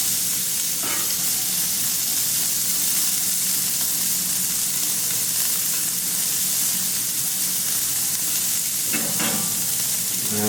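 Peppers, onions and celery sizzle steadily on a Camp Chef FTG600 flat top grill, a loud, close, continuous frying hiss with a couple of brief stirring scrapes and no talk.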